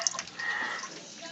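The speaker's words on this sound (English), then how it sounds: "Create a waterfall effect." Water from a submerged pump in a Rubbermaid container trickles down a homemade strip of acrylic molded into steps inside a red tail boa enclosure, a faint, steady splashing trickle with no voices.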